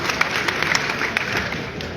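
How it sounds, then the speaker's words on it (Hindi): An audience at a Haryana political rally claps for the team members, steady dense applause with scattered sharper claps, moderately loud throughout. "आप अपने आप के लिए ताली बजा रहे हुए टीम के सारे सदस्य"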